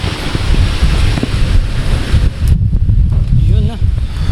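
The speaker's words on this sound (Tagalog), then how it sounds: "Kung marinig yung hangin na yan, no? Napakasarap na hangin." Strong wind roaring in gusts against the microphone, a loud, continuous rumble with rushing noise, close and buffeting, with a brief whistle-like tone near the end.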